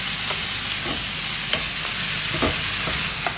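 Chicken coated in a packet seasoning mix fries in a pan while being stirred, a loud steady sizzle broken by repeated scraping stirs, close up, with no talking.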